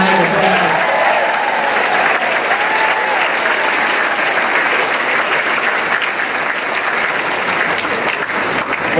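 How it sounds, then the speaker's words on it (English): Sustained applause fills a high school graduation ceremony, a dense, even clapping from a large audience that carries on without a break. "Give them a round of applause."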